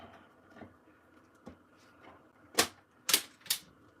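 Scissors or a paper trimmer cut through cardstock for a Stampin' Up card, giving a few quiet clicks followed by three sharp, close snips near the end.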